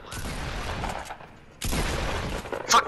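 Gunfire in the Fortnite video game, bursts of shots across two dense stretches with a sharp loud crack near the end, fairly close and with no talk over it.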